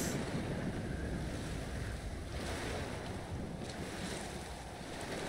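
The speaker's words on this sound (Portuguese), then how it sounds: "Olha o tamanho das ondas." Big ocean waves in the survival video game Stranded Deep, a steady loud roar of surf and wind filling the scene without a break.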